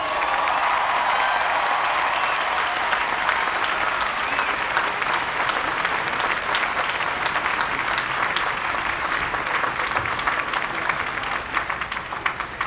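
A large audience at a USC class of 2011 graduation ceremony applauds after a valedictorian speech, a steady, dense wash of clapping that holds strong for the whole stretch with a few faint cheers inside it.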